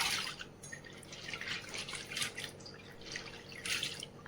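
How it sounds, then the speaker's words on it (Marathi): Dal lentils are washed in water under a kitchen tap, giving faint, irregular splashes and drips that come in soft repeated bursts. "आता पाणी टाकून याला स्वच्छ 2 ते 3 पाण्याने धुवून घ्यायचं आहे"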